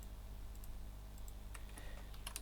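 Keys clatter on a computer keyboard while HTML heading text is typed, faint scattered clicks in short bursts over a steady low hum, no voices.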